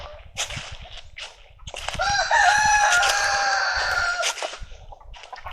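An American Bresse rooster crows loudly nearby in one long drawn-out call on a farm, with scattered scratching and footsteps before and after.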